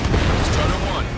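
A missile striking its target in the Ace Combat 7 flight combat game, a short rumbling boom over steady engine roar, loud and close and settling quickly.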